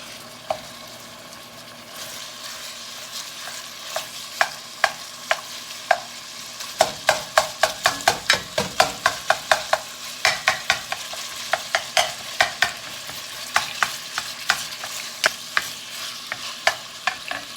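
Food frying in oil in a pan, with a steady sizzle under repeated scraping and tapping strokes of stirring that speed up into a quick run midway, close and fairly loud, no talk.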